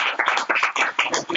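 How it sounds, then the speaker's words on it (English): Brief burst of applause from a workshop audience, a few close, uneven claps rising and falling in quick pulses, heard alone without talk. "we give them a round of applause"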